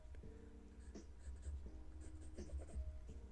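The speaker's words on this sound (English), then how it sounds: "I'm gonna keep pencil inking" A no-lead graphite pencil scratches across paper in short, soft strokes, a quiet continuous scratching and tapping heard up close with faint background hum and no talking.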